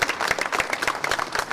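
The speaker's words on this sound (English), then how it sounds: "it's good to clap and we deserve some credit once in a while" An audience claps in brief, dense applause, many hands striking in quick, uneven bursts at close range.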